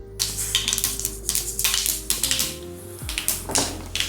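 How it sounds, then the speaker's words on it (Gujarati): Mustard seeds crackle and pop in hot oil while the tempering for a guar sabji is made. The pops come as a rapid, steady stream of sharp, close snaps. "તેલ ગરમ થશે એટલે પહેલાં રાય ફોડી લેવાની છે"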